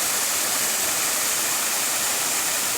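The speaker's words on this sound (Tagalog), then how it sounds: "pakikita ko po sa inyo yung falls nila" Waterfall at Diadi, Nueva Vizcaya, a dense, steady rushing roar of falling water, loud and unbroken throughout, with no voices.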